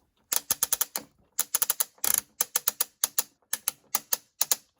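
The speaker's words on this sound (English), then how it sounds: "Got a very loud tension control here" Tension control dial on a Merach Q1S magnetic rowing machine, turned in quick runs of sharp, loud plastic clicks, close up and alone, with short pauses between bursts of four to six clicks.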